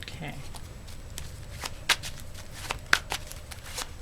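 Oracle cards being shuffled by hand: a soft, steady riffling rustle with a few sharper snaps and taps, close and fairly quiet, with no talking over it.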